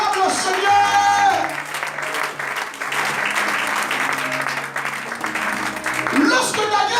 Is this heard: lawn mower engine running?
no